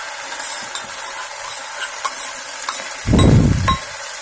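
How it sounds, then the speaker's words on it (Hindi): Spices and vegetables fry in a pan for tomato sauce pasta, with a low, steady sizzle and a short, louder stirring scrape near the end. "देखिए हमारे स्पाइसेस अच्छे से फ्राई हो चुके हैं, सब्जियां भी।"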